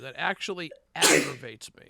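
A single loud, abrupt sneeze bursts out in the middle of casual podcast conversation, with people talking just before and after it.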